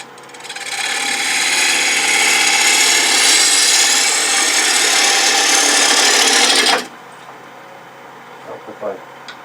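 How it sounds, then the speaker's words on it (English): A half-inch bowl gouge cuts a jarrah bowl spinning on a wood lathe, giving a loud, steady rasping shear for about seven seconds before stopping abruptly, followed by faint clicks and handling noise. "I'll switch to a 1/2 inch bowl gouge."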